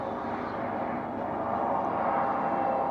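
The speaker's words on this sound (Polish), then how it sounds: "A gdzie ten helikopter? O, tam jest helikopter. Tam leci." Helicopter passing overhead outdoors near a balcony, a steady droning rotor and engine roar that swells slightly as it flies by.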